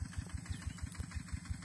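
A tractor ploughing a field ahead of maize planting, its engine knocking in a steady low rhythm of about six beats per second, close and even with no talk.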